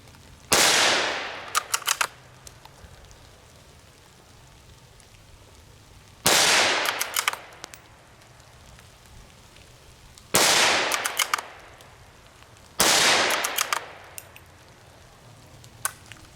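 Four sharp rifle shots from a Savage 93R17 .17 HMR rifle, loud and close, spaced a few seconds apart, each followed by a brief ringing tail and faint mechanical clicks.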